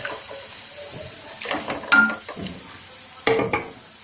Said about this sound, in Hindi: प्याज को फ्राई करते हुए कोशिश ये करनी है हमेशा हंडिया में अच्छी तरह से प्याज को फ्राई करें